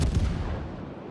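A heavy naval gun salvo from the battlecruiser Alaska in World of Warships booms out and rolls away in a decaying rumble, a single loud blast close by.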